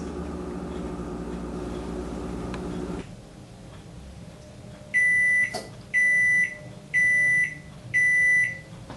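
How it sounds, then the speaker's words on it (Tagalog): A kitchen oven timer goes off as baked mussels finish. A low hum cuts out, and after a short quiet come four loud, evenly spaced electronic beeps, each about half a second long, close and clear with no talking. "tapos na yung timer natin"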